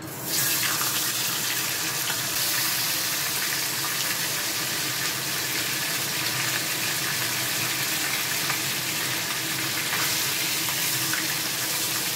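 Pieces of shol fish sizzle steadily in hot oil, a loud continuous frying hiss that holds unbroken from start to finish with no voices.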